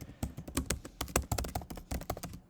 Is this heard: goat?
no